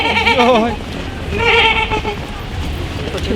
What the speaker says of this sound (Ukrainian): О, коза!